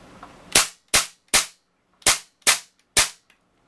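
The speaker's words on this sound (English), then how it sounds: "I'm actually going to give you a quick demonstration of the gun in semi." A Tokyo Marui MP7A1 gas blowback airsoft submachine gun fires six sharp semi-automatic shots, spaced unevenly across a few seconds. Each shot is a loud, snappy crack with a quick decay, heard close and alone in a quiet room.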